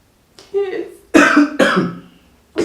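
A person coughs several times in short, harsh bursts separated by brief pauses, close to the microphone.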